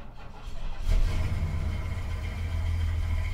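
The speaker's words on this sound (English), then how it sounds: "Starting and idling perfectly." Classic Ford Fairlane fitted with Holley Sniper EFI cranks and fires up, then settles into a steady low rumbling idle, close and continuous with no speech.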